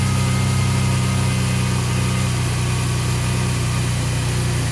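A 2006 Pontiac G6 with the 3.9 engine idles right after new spark plugs and wires are fitted, giving a steady, close, low rumbling hum with slight vibration and no speech.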